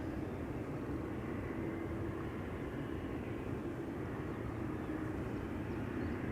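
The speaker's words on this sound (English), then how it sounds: "C Series 300 going to Sofia. That's where all the Sofias go, obviously. Bulgaria Air, preceding the A350 by Singapore." A Bulgaria Air Airbus A220-300 jet takes off at Schiphol's Polderbaan, its engines giving a continuous, loud broadband roar that holds steady throughout, with no talk.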